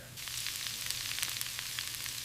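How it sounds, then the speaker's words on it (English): Eggs frying in a kitchen pan give a steady, close sizzle with fine crackling pops throughout, alone with no talk. "I am busy frying some eggs right now."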